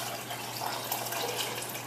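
Coconut water from a young coconut pours steadily into a pan, a soft continuous trickle and splash heard close and fairly quiet, with no talk.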